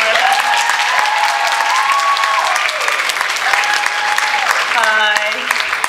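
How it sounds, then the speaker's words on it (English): Loud, dense applause from a crowd at the opening ceremony of the Oni-Con 2004 anime convention, sustained throughout, with a few cheers and whoops rising above the clapping toward the end. "so applaud for her."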